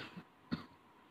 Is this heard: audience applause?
no